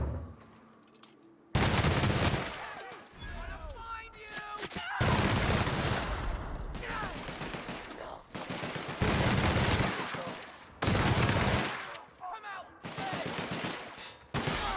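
Dense bursts of automatic gunfire ring out in The Outer Worlds: Spacer's Choice Edition during a run-and-gun assault, with loud rapid volleys separated by brief lulls and some talk in between.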